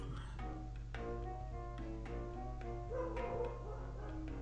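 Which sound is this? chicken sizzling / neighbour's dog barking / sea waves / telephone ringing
neighbour's dog barking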